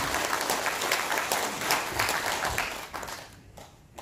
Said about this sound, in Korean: 김재원 의원님께 다시 한번 큰 박수 부탁드립니다